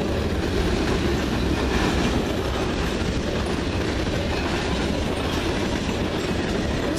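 CN freight train M344 rolls past at Ladysmith, and its loud, steady rumble fills the whole stretch along with a constant clatter of wheels on rail.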